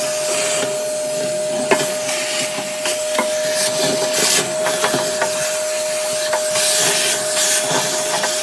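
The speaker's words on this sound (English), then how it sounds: "So now we're going to take our handy shop vac" A shop vacuum roars steadily and loudly close by as it sucks up scraped aquarium sealant from a fish tank being resealed. A constant whine and hiss runs beneath scattered rattles and knocks of debris.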